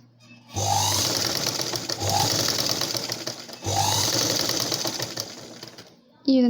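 Domestic sewing machine stitching a blouse, running in three bursts of rapid whirring with short pauses between them, close and clear, and a brief voice at the very end.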